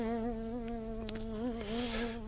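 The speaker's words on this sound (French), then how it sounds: "Et si cette sacrée mouche pouvait venir se poser sur mon sucre" A fly buzzes continuously as a sound effect in a French audio drama, its steady droning hum wavering slightly in pitch as it moves close to the listener, with no speech.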